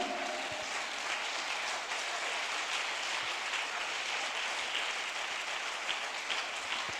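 A church congregation applauds as an offering of praise to the Lord during a worship service, a steady, dense wash of clapping that holds evenly throughout without breaks.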